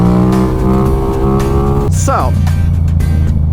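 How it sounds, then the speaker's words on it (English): A motorcycle engine roars loud and close as the rider pulls wheelies, holding a steady drone before a sharp rising rev; a voice speaks briefly over it. "I guess I'll just do wheelies."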